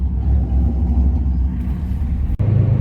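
Chevrolet Camaro engine rumbling while driving, a loud, deep continuous drone heard from inside with a brief dropout near the end before the low growl resumes; no one talks.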